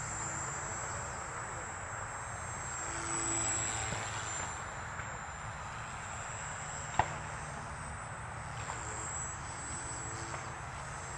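A Blade 235 RC helicopter fitted with a 14T pinion runs with a steady, even whir of rotor and motor, continuous and moderately close, with a couple of brief clicks along the way.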